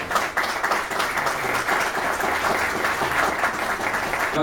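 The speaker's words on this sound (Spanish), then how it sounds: "dándole un aplauso a Manuel por la calidad de su vida y por el reconocimiento" Sustained applause from an audience at a conference on Winston Churchill, a steady wash of many hands clapping evenly throughout, fairly loud and full with no talking on top.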